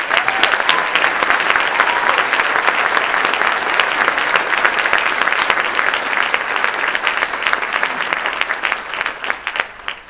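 Sustained applause from a concert audience cheering middle-school students at a county all-county band concert, a dense steady clatter of many hands, loud and close, thinning out toward the end.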